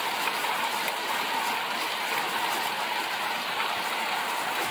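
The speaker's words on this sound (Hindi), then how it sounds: "आप बारिश का अंदाज़ा लगा सकते हो कि कितनी स्पीड बारिश हो रही" Dense, steady hiss of heavy monsoon rain pouring down on Hyderabad streets without pause, loud and continuous with no voices.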